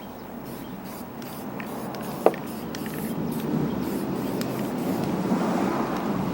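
An aerosol can sprays paint onto lawn mower parts with a steady, soft hiss that runs continuously and close by, with one brief click partway through and no talking.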